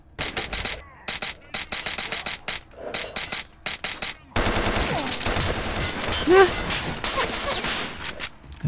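Rapid bursts of automatic gunfire in the video game Radiophobia 3, sharp repeated shots in clusters followed by a denser stretch of firing and mechanical clatter.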